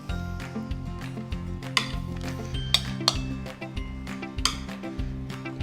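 Plates and cutlery clink and clatter in a string of light, bright knocks while rice is served, over a steady musical backdrop.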